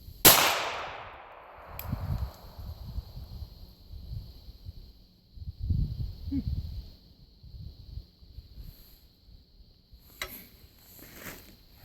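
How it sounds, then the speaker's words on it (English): .380 hollow point pistol fires one sharp close shot at the start, leaving a ringing decay, followed by outdoor wind, rustling and a couple of faint distant pops. "Next will be 380 hollow point."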